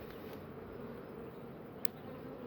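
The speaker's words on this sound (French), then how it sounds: "Ah mince, il y avait une abeille là" A bee hums steadily and close around a beehive nucleus, a continuous buzzing drone with no talk over it.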